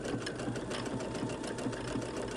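Sewing machine running a scallop stitch with a twin needle, a steady fast mechanical whir with rapid rhythmic needle thumps throughout, close and continuous.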